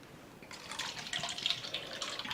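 Kangen water pours into a cup for tea, a soft, steady trickle with faint splashing that swells slightly, fairly quiet and close.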